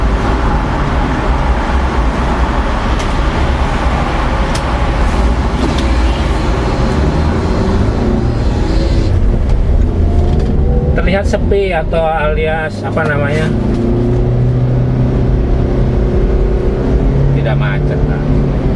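A 2008 Toyota Avanza 1.3G on an inner-city toll road, heard from inside the cabin as a loud, steady engine and road drone. Someone talks over it throughout.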